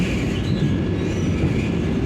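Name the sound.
Vande Bharat train running, Secunderabad to Tirupati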